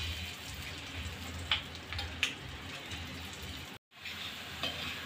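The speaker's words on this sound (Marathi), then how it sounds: "हा मसाला आपल्याला गोल्डन कलर येईपर्यंत फ्राय करून घ्यायचा आहे।" Masala fries in a pan for an egg tawa curry with a soft, steady crackling sizzle and a couple of light spoon taps, then cuts out briefly before the sizzle returns.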